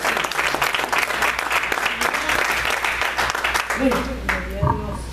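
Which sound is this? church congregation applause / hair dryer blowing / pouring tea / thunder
church congregation applause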